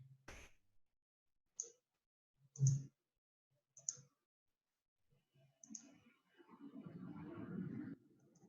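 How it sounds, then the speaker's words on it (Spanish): A computer mouse clicks several times at a slow, irregular pace during digital map drawing for a GIS class, each click sharp and close, followed by a longer stretch of soft rustling handling noise. "de la comuna voy dibujando simplemente haciendo clic."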